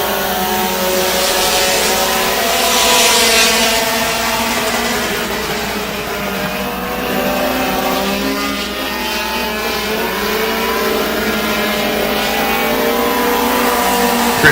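Race cars accelerating around an evening short track, a continuous loud engine roar that swells and fades as the cars circle, dense and distant-sounding with no talk.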